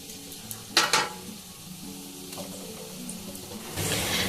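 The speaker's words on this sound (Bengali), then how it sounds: "এগুলোকেও কিন্তু এইভাবেই ভাজতে হবে একদমই হাই ফ্লেমে ভাজা যাবে না" Gujiya or samosa pieces frying in oil over a low flame give a soft, steady sizzle, with a couple of sharp clinks from a pan or spoon near the start and a louder burst of bubbling at the end.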